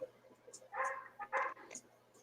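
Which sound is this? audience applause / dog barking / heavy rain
dog barking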